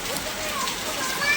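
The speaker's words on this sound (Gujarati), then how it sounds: "જો વરસાદ તૂટી પડ્યો." Heavy monsoon rain pouring down outside a village home in Gujarat, a steady close hiss of falling water and drops on surfaces that swells slightly toward the end, with people talking over it.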